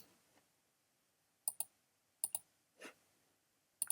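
Sharp computer mouse clicks in a quiet room, heard in close pairs at intervals with a softer rustle between, while ungrouping and moving pieces for acrylic jewelry laser cutting.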